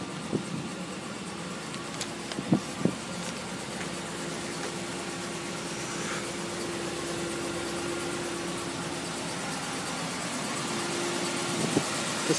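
A 2015 Dodge Ram 2500 Power Wagon 4x4 with the 6.4-litre Hemi V8 idles at a dealership, a quiet, steady low hum with a couple of faint clicks and no talking.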